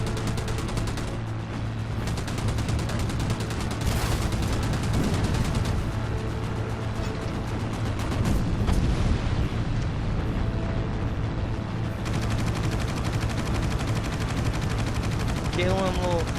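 Machine gun fire in the naval air combat game Battlestations Pacific, a dense, continuous rattle of rapid shots with explosions and engine drone beneath, and a voice talking over it.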